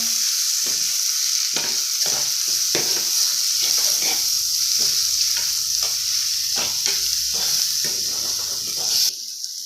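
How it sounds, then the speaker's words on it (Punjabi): Onions and tomatoes fry in a pan for baingan bharta, a steady loud sizzle broken by repeated scraping strokes of a spoon stirring them, close up and with no one talking. "ਇਹ ਵੀ ਚੰਗੀ ਤਰ੍ਹਾਂ ਆਪਾਂ ਮਿਕਸ ਕਰ ਦਿਆਂਗੇ ਤਾਂ ਕਿ ਜਿਹੜੇ ਆਪਣੇ ਪਿਆਜ਼ ਨੇ ਟਮਾਟਰ ਨੇ ਉਹ ਚੰਗੀ ਤਰ੍ਹਾਂ"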